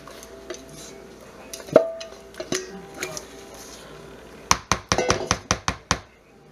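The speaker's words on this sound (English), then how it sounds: "And I just want to kind of mix it. And then fold it over." Utensils scraping and tapping against a bowl as dressing is mixed and folded into cooled pasta, with scattered knocks and then a quick run of sharp clinks near the end, close and moderately loud, with no talking.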